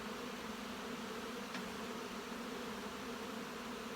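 Honey bees buzzing around opened hive boxes during hive splitting, a steady dense hum of many bees close by, continuous and even, with no voices.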